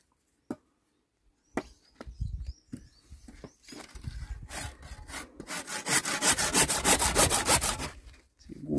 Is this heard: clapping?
no